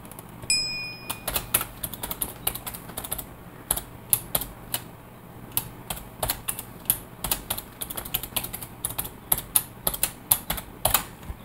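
Someone types a password on a computer keyboard, a steady run of close, crisp key clicks in an uneven rhythm, with a short electronic chime near the start.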